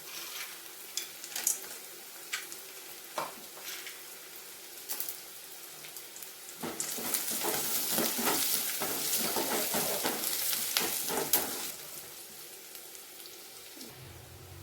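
Onion and already-roasted peanuts fry in a pan for sabudana upma, starting with quiet scattered crackles and then breaking into a loud, dense sizzle mixed with stirring scrapes before easing off.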